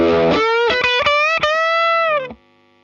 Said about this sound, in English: Gonna turn a little bit of my input gain up so we get a little bit more distortion.